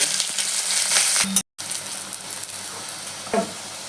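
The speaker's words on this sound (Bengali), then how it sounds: "এবার আমি বেগুনটা ভেজে নেব।" Eggplant frying in a pan for a traditional Bengali dish gives a steady, close crackling sizzle throughout, with a brief break midway and a small clink near the end.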